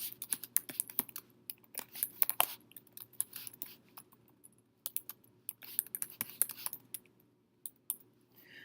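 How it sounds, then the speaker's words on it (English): Rapid typing on a computer keyboard, with bursts of close, crisp key clicks separated by short pauses, some louder strokes like the space or enter key, and a quiet room hum underneath. "once I've typed in all the instructions for my students"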